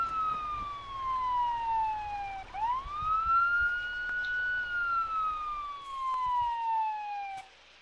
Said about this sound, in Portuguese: Vou atravessar na pista e vou dar sirene.